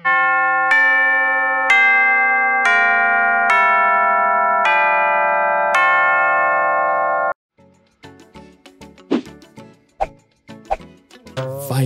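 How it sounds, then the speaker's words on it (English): Tubular bells played slowly, each long ringing chime sustaining into the next over several descending strokes, followed by a lighter, quicker run of struck tuned-percussion notes; loud and close, no voices. "Tubular bells."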